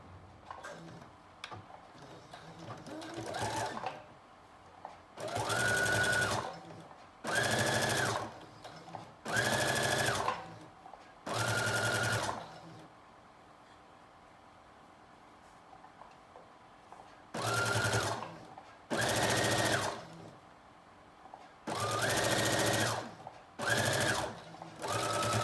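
A sewing machine stitches a knit dress in short repeated bursts of fast mechanical chatter, separated by brief pauses and a longer quiet stretch in the middle, heard close up with no talk.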